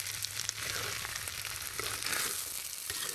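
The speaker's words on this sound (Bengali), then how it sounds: "কিছুক্ষণ ভেজে নেব, প্রায় 1 মিনিট।" Noodles sizzling and frying in a pan with noodle masala stirred in, a steady crackling hiss with occasional stirring scrapes and no talk.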